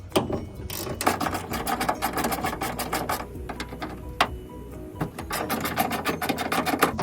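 Ratcheting wrench on 10mm bolts of a 2001-2006 Acura MDX hood, with quick repeated metallic clicks and rasping turns continuing in steady bursts at close range, with short pauses between runs.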